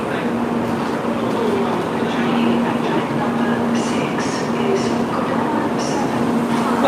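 A Shinkansen bullet train rushes through Shizuoka Station, a steady loud roar of rail noise with a faint hum throughout, while people talk in the background.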